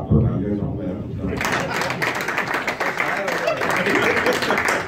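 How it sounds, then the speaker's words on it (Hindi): Audience applause at a farewell ceremony for a doctor, a steady wash of clapping from a crowd that swells in after a voice and carries on loudly, with talk partly underneath. "इस बात को तालियां चाहूंगा"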